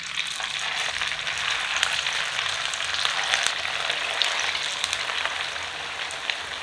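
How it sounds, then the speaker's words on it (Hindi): Semolina snacks fry in hot oil over medium-high flame for a breakfast dish, a steady, dense sizzle and crackle holding even and close throughout with no talk. "अब हम एक एक करके स्नैक को डालते हैं।"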